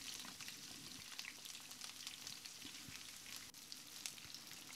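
Bay leaves and sliced onions fry quietly in a pan for lamb liver bhuna. A faint, even crackle continues without a break, with tiny popping specks and no voices.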